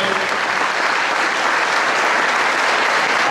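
Audience applause at a forum on work and economy in a library in Bernal, dense, steady clapping from a large crowd filling the room throughout.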